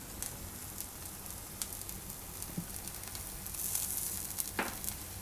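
Corn pudla, a Gujarati corn batter pancake, sizzles steadily in a pan over medium heat, a continuous soft frying hiss with a few faint clicks and scrapes.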